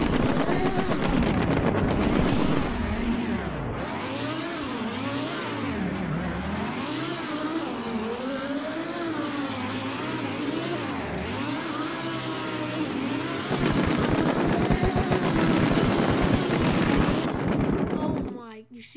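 Lamborghini Huracán Performante sports car in a video game, its engine revving hard and rising and falling in repeated acceleration sweeps, loud and close, ending abruptly.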